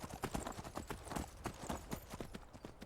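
Horse hooves clip-clop in a quick, steady galloping rhythm while riding in Skyrim, fairly quiet and close, with faint game ambience underneath and no talk.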